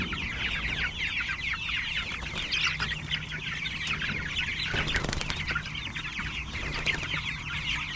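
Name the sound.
chickens clucking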